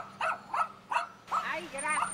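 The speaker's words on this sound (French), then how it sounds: "Quel joli chien. Oui, il est à moitié loup et à moitié chien stupide." A dog that is half wolf, half dog gives three short, evenly spaced barks or yips, then a whimpering, higher whine, with people talking nearby.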